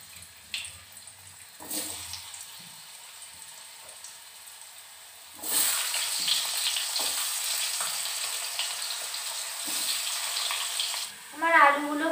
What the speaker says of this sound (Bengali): এবার আমি আলুগুলো হালকা লাল করে ভেজে নেব